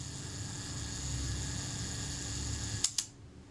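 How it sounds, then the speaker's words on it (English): A Kodak Retinette II self-timer whirs steadily as it runs down, a close buzzing mechanism ending in two quick sharp shutter clicks. "Let's see if the self-timer still works. Yeah, it's running down, that's good."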